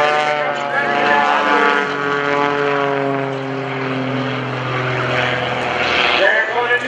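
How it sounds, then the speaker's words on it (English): An MX2 aerobatic airplane engine drones loudly and continuously during an airshow maneuver, its pitch shifting as the plane works through the routine, with a voice faintly audible beneath. "He's got that MX2 cranking."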